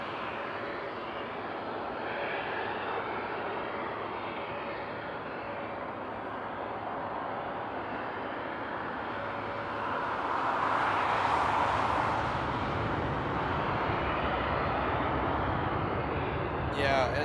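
An airplane rumbles steadily at Frankfurt Airport on a frosty night, its broad engine roar swelling midway as it passes closer, while people chat over it.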